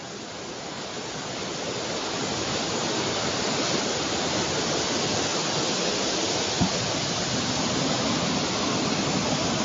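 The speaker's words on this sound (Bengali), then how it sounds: "তুমি আমার গায়ে পানি ঢেলে দিলে?" Water pours onto a person in a cartoon scene, heard as a continuous broad rushing splash that swells slightly and holds at an even level, alone without voices.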